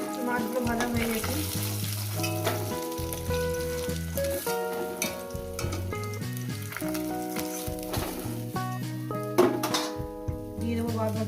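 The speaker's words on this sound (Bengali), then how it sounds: "দিয়ে দেবো বাদ বাকি মাছগুলো।" Mrigal fish pieces fry in hot oil in a pan, a steady sizzle running underneath louder music with tuned, sustained notes throughout.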